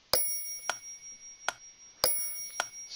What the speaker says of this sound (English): already you can hear that it's not waiting for the bell to complete